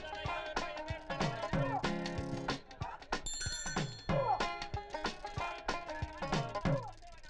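A telephone rings with a repeating melodic ringtone, bright bell-like tones that cycle several times at a steady, fairly loud level.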